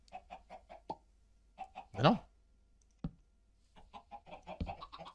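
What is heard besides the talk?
chickens clucking in the video game Minecraft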